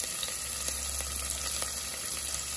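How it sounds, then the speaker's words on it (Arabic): Onions sizzle in a couple of spoonfuls of ghee, a dense steady frying hiss with faint crackles, close and constant for the whole stretch with no talk. "معايا هنا معلقتين سمنه بلدي او ايا كان الماده الدهنيه اللي انت عايزاها. هسقط البصل بتاعي كده بالشكل ده فيها"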